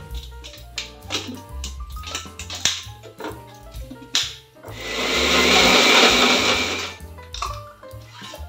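Mixer grinder blends a cucumber mint smoothie with yogurt and lemon juice. Short pulses are followed by a loud continuous whir of about two seconds, then a few more clatters and taps, all close up.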